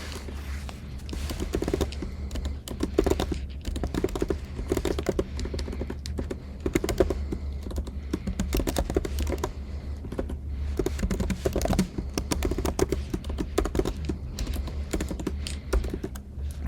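Java code for the N Queens backtracking problem being typed on a computer keyboard, a fast continuous clatter of close key taps with brief pauses, no talk.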